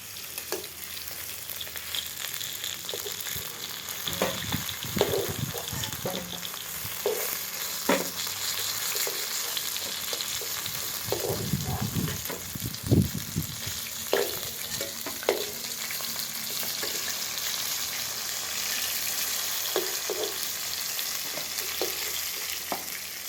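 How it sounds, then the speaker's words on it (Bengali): Nigella seeds frying in the oil left over from frying snakehead fish, a steady loud sizzle with occasional stirring scrapes and pops, close and alone without speech. "মাছ ভাজার তেলের উপরে কালো জিরে,"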